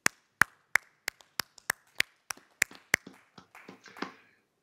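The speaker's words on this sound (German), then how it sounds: "einen herzhaften Applaus hier von meiner Seite" One person claps hands alone at a sparse conference keynote event, about ten crisp, evenly spaced claps, close and isolated, followed by a few softer, scattered claps and light handling noises.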